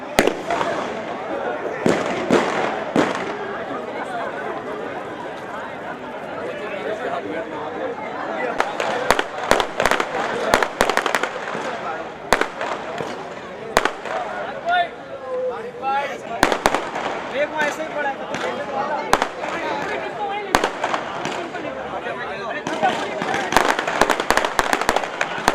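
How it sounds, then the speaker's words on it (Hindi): Fireworks burst over a youth cricket fair opening ceremony at a ground, a dense run of crackling pops and bangs over steady crowd noise while a commentator talks throughout. "खूबसूरत आतिशबाजी का मुजाहिरा इस यूथ क्रिकेट मेला"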